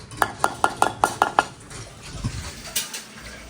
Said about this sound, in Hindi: ये लो, सादे बर्तन मैंने धो लिए, आधे रह गए।